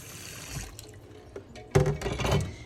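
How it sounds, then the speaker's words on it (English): Cold tap water runs into a pot that held boiled eggs, starting with a few faint trickles and clinks before a louder gushing stream fills it, with no talking. "put cold water in the pot."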